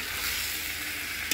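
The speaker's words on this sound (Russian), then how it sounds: "Все, мешаю, да мешаю." Food simmers in a pot while being stirred, giving a steady, close hiss and soft sizzle over a brief moment, ending with a slight knock.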